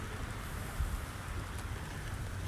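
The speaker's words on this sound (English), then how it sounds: "And it seems to be raining." Steady rain falling outdoors, a dense even hiss of drops with a low rumble underneath, unbroken for a couple of seconds and with no voices.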